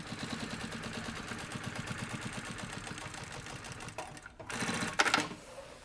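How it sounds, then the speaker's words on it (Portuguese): A sewing machine runs a rapid, even stitch along the side seam of a puffer backpack, then pauses and gives a few short, louder bursts near the end. "E eu vou passar aqui uma costurinha na lateral."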